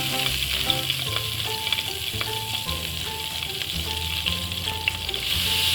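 Flour frying in melted butter in a pan for white sauce pasta, a steady close sizzle with light stirring. Soft music plays throughout, with no voices.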